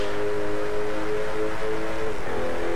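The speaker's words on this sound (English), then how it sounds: "But listen to that engine now." Jaguar F-Type R Coupe engine in the Driveclub racing game, a loud, steady high-revving drone with tonal harmonics that holds pitch, then dips briefly as if shifting before rising again.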